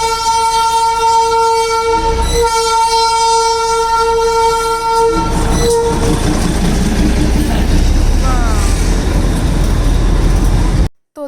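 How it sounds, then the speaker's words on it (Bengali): Darjeeling toy train passing close by, its loud horn sounding steadily for several seconds before the rumbling, clattering roar of the wagons takes over, with no talking. "তোমাদেরকে দার্জিলিংয়ের টয় ট্রেনের আওয়াজটা আর একবার শোনাই"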